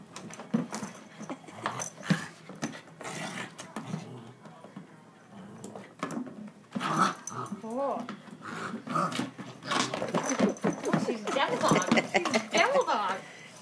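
A puppy growls and snarls in bursts while playing with a pumpkin, the close, scrappy noises mixed with panting and with people talking over it.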